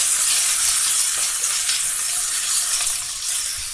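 Paneer pulao masala with fresh mint and coriander being stirred in a hot pan, giving a loud, continuous sizzle and hiss with soft scraping throughout.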